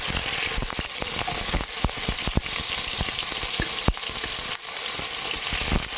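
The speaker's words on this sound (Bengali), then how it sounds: "এখন আমি পনিরগুলোকে ভেজে নিচ্ছি।" Paneer cubes fry in hot oil on a tawa, giving a steady, dense crackle scattered with sharp pops, close and fairly quiet, with no voices.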